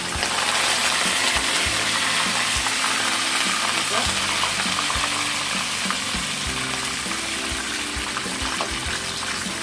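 Plantains fry in a pan over medium-low heat, giving a steady, close sizzle and crackle with occasional soft pops and stirring sounds. No one speaks.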